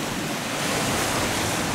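Strong wind and rough sea waves buffet a harbour breakwater on a cold day, a dense, steady roar of surf and gusting wind noise filling the whole clip with no voices.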